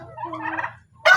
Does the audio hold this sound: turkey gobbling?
yes